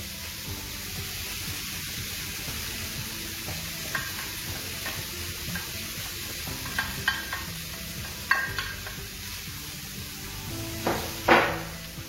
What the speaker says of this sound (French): maintenant je rajoute mes oignons